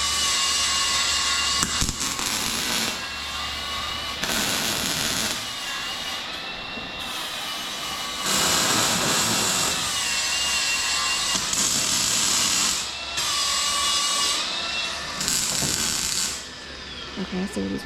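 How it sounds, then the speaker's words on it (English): Metal is ground during a race car trailer build as the frame gets braced. Loud, harsh grinding whines run in long bursts that rise and fall over a constant background hum, with brief pauses between passes. "This is grinding on something."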